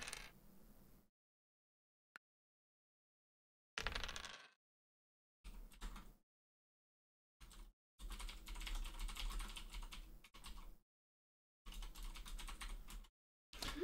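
Typing on a computer keyboard in short, quiet bursts of rapid key clicks separated by silent pauses, the longest runs falling in the second half.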